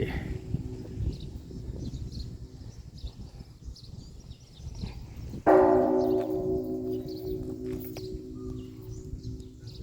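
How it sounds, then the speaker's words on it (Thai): A single deep temple bell at a Thai temple strikes partway through, its tone ringing out and slowly fading over outdoor ambience with faint birdsong. "เสียงระฆัง"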